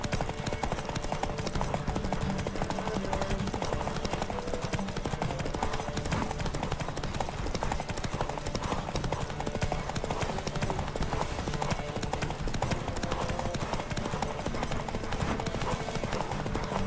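Horse hooves gallop in the video game The Witcher 3: Wild Hunt, a rapid, unbroken clip-clop rhythm, loud and continuous from start to finish.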